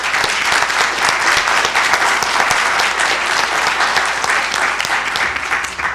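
A large audience applauds after a memory science lecture at a health science center, with dense, loud, sustained clapping holding steady for several seconds before easing slightly, no voices.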